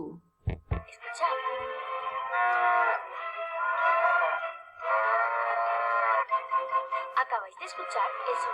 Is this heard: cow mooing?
yes